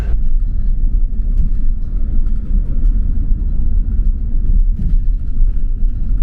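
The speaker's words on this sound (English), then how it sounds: "The bus is here, bus 300. Let's go. This is the intercity bus." Intercity bus 300 drives along, a steady low engine rumble and road drone heard from inside the vehicle, continuous with no talking.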